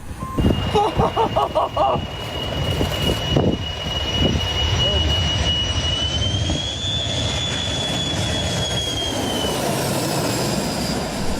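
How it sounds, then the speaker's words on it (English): A Boeing 737 firefighting air tanker passes overhead with a rising, sustained jet roar after a burst of reversing beeps, the engine whine shifting in pitch as it flies over farmland during a bushfire. "a plane was available to drop the iconic pink fire retardant to protect farms and homes"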